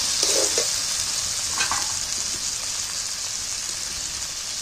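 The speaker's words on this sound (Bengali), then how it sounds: "এইবারে আলুগুলো তুলে দিচ্ছি।" Cut potatoes go into a pan of mutton and chicken mince frying in spices, giving a steady broad sizzle with a few soft clatters and stirring scrapes near the start. No one speaks.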